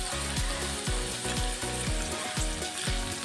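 Chopped onions and green chilies frying in hot oil for a raw banana curry, a steady loud sizzle with crackling and regular rhythmic scraping or stirring clicks throughout, no voices.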